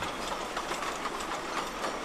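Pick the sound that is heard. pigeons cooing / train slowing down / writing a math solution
train slowing down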